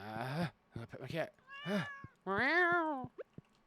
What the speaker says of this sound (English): I'm gonna pet my cat.